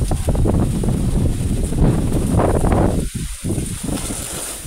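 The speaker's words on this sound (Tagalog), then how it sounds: "Yan ang lakas ng hangin o." Strong wind buffets the microphone in loud, gusty rushes, with a brief lull near the end before the roar picks up again.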